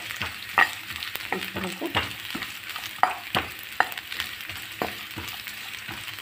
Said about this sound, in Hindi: इसमें करेले डाल करके भूने